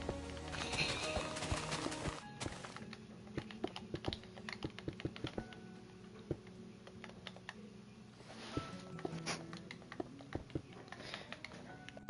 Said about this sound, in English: It's a thick, big chunk of keyboard.